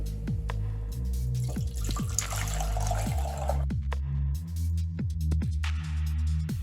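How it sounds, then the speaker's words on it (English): Four cups of cold whole milk poured into a saucepan on a kitchen stovetop, a steady liquid pour followed by intermittent drips and splashes, close and moderately quiet. "This is whole milk right here, 4 cups worth, and I'm going to put it right here in the saucepan"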